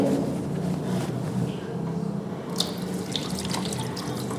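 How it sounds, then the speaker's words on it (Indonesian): An opened tap runs into a sink, a steady close stream of water with small splashes and drips toward the end. "Buka keran dan basahi keran dengan air"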